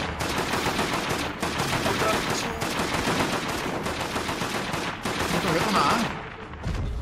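Sustained automatic gunfire from a turret in the online multiplayer game Deathgarden, dense rapid bursts filling the whole stretch at a loud, steady level, with brief dips between volleys.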